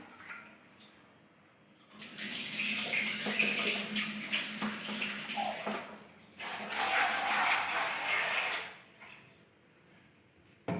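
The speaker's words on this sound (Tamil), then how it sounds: "இப்போ இதை அலசி எடுத்துகிட்டு வந்துடலாம்." Slit vegetables are rinsed under running tap water, heard as two separate bursts of splashing flow with a brief quiet gap between them, fairly soft and close, with no voices.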